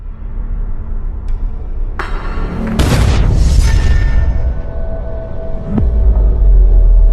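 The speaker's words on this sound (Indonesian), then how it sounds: "Kim langsung mengambil granat dari dalam tas Rei dan inilah yang terjadi" A grenade detonates in a film scene with a heavy, rumbling boom that swells mid-clip amid loud, dense low-end rumble, followed by a sharp impact and continuing deep roar.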